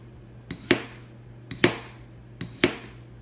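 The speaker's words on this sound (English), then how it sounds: "And again, capable of some very, very thin potato slices here." A budget Cangshan V2 chef knife cuts very thin slices from a potato, with three evenly spaced crisp chops against the board. Each stroke has a light lead-in, and the sound is close and clear with no talking.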